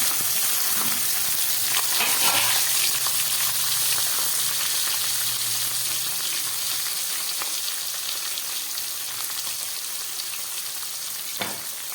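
Bay leaves, capsicum and onion frying in hot oil for a Bengali-style chicken soup: a continuous close, loud sizzle and hiss throughout, with occasional stirring scrapes and a faint pop near the end.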